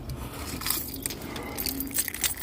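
A bunch of car keys jingles and rattles close by in steady metallic clinks for a couple of seconds, with no talk over it.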